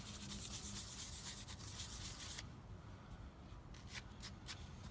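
A 3M abrasive pad scrubs a part from a disassembled Pharos coffee grinder, making soft, close rasping strokes. The rubbing is continuous at first, then turns into brief separate swipes, all quiet and without speech.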